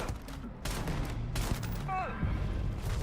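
Exchanges of gunfire in the video game Starfield come as rapid bursts and sharp cracks at moderate distance, layered over a busy, rumbling soundtrack with a brief electronic tone.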